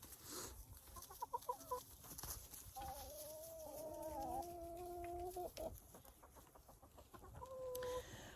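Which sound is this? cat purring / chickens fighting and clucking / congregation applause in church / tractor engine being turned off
chickens fighting and clucking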